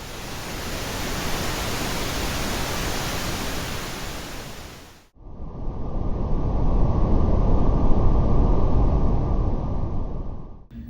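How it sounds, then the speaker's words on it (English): Two stretches of steady rushing noise: first brighter, hissier pink noise, then a switch to deeper, darker brown noise with a low rumble. "Here is an example of what pink noise and brown noise would sound like."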